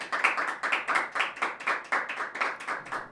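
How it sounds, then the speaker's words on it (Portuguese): A small studio audience claps for the educators on a talk show about a university entrance exam, with quiet, rhythmic handclaps in a steady beat. "uma salva de palmas para eles."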